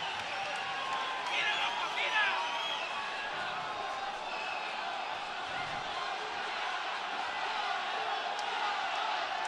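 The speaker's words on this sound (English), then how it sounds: "The crowd's into this. They're on their feet." A boxing arena crowd at a Canada-versus-Mexico bout roars in a broad, steady wash of cheering, with a brief swell of louder shouts early on and commentators talking over it.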